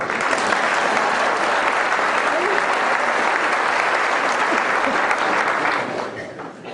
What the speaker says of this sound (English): You applaud whatever reason you want.